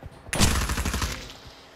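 A loud burst of gunfire in the video game Pavlov VR erupts suddenly after a brief quiet, a rapid string of close shots that rings out and decays over about a second.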